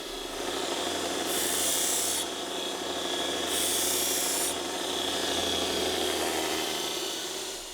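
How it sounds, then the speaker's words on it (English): A sharpened zero-turn mower blade has the burrs on its back side filed off in long, steady rasping strokes, a continuous close, loud grinding-like scrape with slight swells. "We just took off any of the sharp burrs that were on the back side of the blade."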